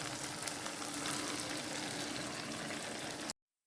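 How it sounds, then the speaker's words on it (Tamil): Ground roasted masala poured into hot oil for a trevally fish curry sets off a loud, steady, close sizzle that hisses without a break for over three seconds, then cuts off abruptly. "இப்போ நம்ம ரெண்டாவதாக வறுத்து அரைச்சி வச்ச மசாலாவும் இதிலே ஊற்றிக்கலாங்க."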